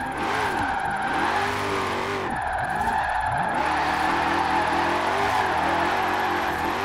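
A Chevrolet Camaro in Forza Horizon 4 revs loudly up and down through repeated swooping engine swells, with continuous tire skidding and squealing as it drifts.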